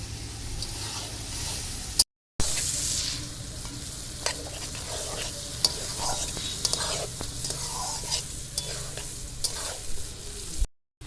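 Boiled chickpeas sauté with cooked-down spices in a pan, a continuous close sizzle with scraping stirring strokes and occasional clicks of the spoon, interrupted by two short silent gaps.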